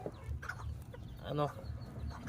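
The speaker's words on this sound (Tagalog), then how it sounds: "yung ating naglilimlim na show type na Serama" A broody show-type Malaysian Serama bantam hen sitting on eggs gives soft, low clucks close by, with one clearer, louder cluck near the middle.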